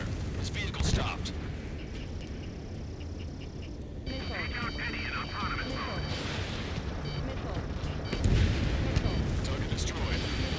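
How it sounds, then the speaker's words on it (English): Heavy gunfire and explosions rumble continuously during an attack on a vehicle in the combat flight game Ace Combat 7, loud and dense with bursts, while radio voices talk over it. "Open fire on that vehicle."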